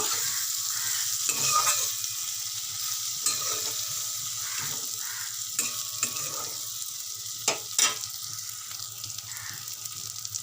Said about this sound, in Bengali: দেখো এখানে বেগুনটা দিয়েছি, আর দিয়ে একটু ভাজা করে নেবো